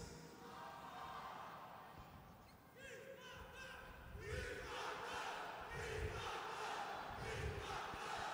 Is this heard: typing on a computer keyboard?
no